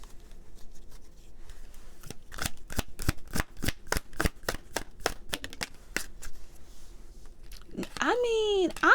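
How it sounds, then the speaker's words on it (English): A tarot deck is riffled and shuffled in a rapid run of sharp card snaps, close and crisp. The snaps end in a brief swirl of chimes. "I'm shuffling, babes."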